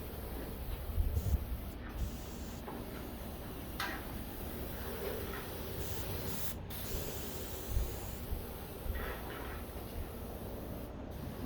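A sprayer steadily hisses stain across a deck of Brazilian Cumaru hardwood, a soft continuous spray with faint ticks and rubbing noises, fairly quiet and without talk.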